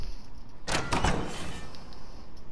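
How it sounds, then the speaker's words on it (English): A door slides open after a switch is flipped in the video game Portal Knights, a single mechanical whoosh and rumble lasting about a second over quiet game ambience. "But you go up, flip your switch, door opens, and you're good to go."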